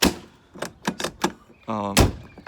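A sticking entry door on a 2019 Thor Compass 24TF RV, tugged with several bumps and thunks, a brief rattling buzz and a firm clunk near the end, under some nearby talk.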